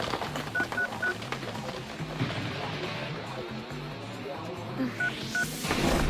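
Telephone keypad tones beep in short bursts, a few quick dial tones near the start and more near the end, layered over steady background music and ambience.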